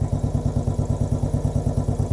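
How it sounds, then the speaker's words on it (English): A 2017 Royal Enfield single-cylinder motorcycle engine idles steadily just after an oil change with 10w-50 semi-synthetic oil, producing a loud, close, even low thump repeating rapidly throughout with no voices. "We'll just let it idle for a few minutes, get that new oil through the engine."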